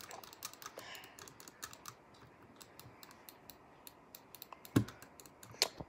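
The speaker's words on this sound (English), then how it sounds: "Hear the side buttons." Side buttons of a Glorious Model O gaming mouse being clicked, a string of small, close, dry clicks at uneven intervals, with two sharper, louder clicks near the end.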